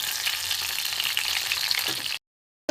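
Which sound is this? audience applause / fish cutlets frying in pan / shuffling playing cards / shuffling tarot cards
fish cutlets frying in pan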